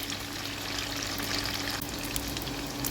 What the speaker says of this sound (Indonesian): Ini tunggu sampai kedua sisinya matang, sampai sisi yang satunya lagi matang, baru kita angkat